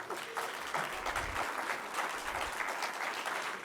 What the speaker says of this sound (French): je vous demande de les applaudir